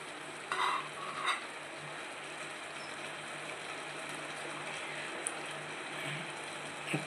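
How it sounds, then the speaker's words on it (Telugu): Ghee sizzling in a pot while being stirred for ven pongal, a continuous soft hiss with a few brief scraping bumps of the spoon, fairly quiet and close, no talking. "అందులో నెయ్యి వేసుకోవాలి"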